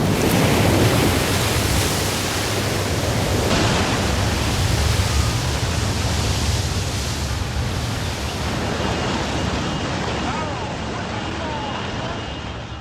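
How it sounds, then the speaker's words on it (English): Tsunami waves strike Japan's coast after an earthquake, a continuous loud roar of rushing, churning water that barely changes from start to finish. "Barely half an hour after the quake, the first of a series of tsunami waves hit Japan's coast."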